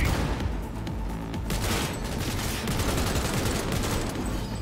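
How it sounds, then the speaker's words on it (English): A Cyberpunk 2077 firefight on PS5: dense bursts of gunfire crackle continuously, with heavy booms that fit a grenade blast, loud and close with no clear pauses. "Grenade."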